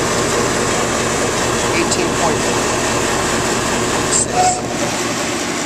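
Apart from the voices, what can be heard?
compressor running in homemade air conditioner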